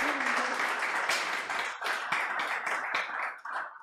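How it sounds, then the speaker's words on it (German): An audience at an evening talk on net politics gives sustained applause, dense steady clapping that carries on for about four seconds with a few louder individual claps before it thins at the end. "Dann würde ich um Applaus bitten."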